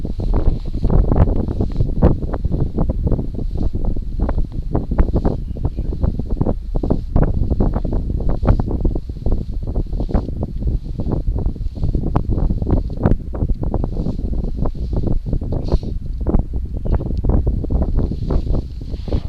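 Wind blows across an open expanse of ice during ice fishing in Yakutia, a continuous rough rumble with constant gusty buffeting and a faint steady hiss, with no voices over it.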